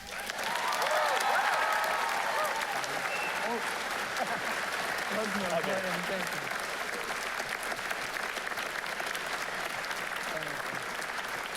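Steady applause from a graduation crowd as the 2017 Kettler Award is presented, full and continuous throughout, with a few voices and cheers mixed in under the clapping.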